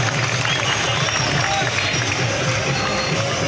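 A crowd at a local gathering claps and cheers in a dense, continuous wash of applause for a team, with a voice faintly audible underneath.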